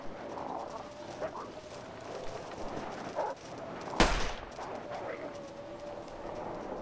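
A single sharp gunshot-like crack from The Long Dark video game stands out midway over a steady background hum with faint scattered noises, set in a blizzard.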